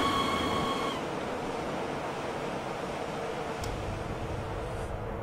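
Class 92 electric locomotive in Train Simulator 2015 running steadily, a continuous loud rumble and rail roar with a brief high whine at the start, no talk.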